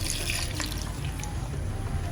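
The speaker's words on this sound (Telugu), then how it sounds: "కొంచెం వాటర్ వేసుకోవాలి." Water poured into a mixer grinder jar holding dal, green chillies and salt, a steady close splashing trickle lasting about two seconds.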